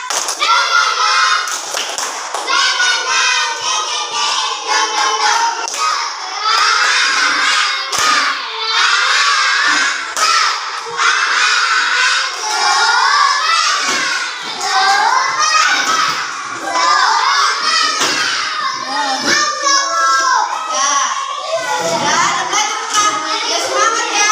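Schoolchildren in a multigrade classroom lesson perform a rhythmic clapping chant, loud and close, with quick clap bursts mixed with shouted voices and excited kid chatter throughout.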